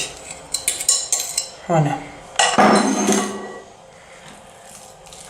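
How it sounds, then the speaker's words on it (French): Banana cake batter is stirred in a bowl with a utensil, giving a quick run of clinks and taps, then a wetter scraping swirl and a fading rattle, close and fairly loud, with a brief spoken word partway through. "on va venir bien mélanger"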